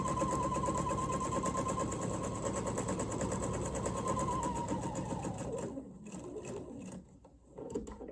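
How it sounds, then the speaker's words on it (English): A sewing machine stitches through quilted fabric layers for a jar lid opener, a rapid, steady mechanical whirring close by that slows and stops near the end, followed by a few intermittent short bursts of stitching. "I'm just going to sew right through my layers in an X"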